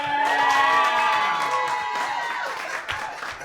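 A live roast battle crowd in New York claps and cheers for the winning comic, a loud sustained mix of applause, whoops and shouts that stays full before easing slightly near the end.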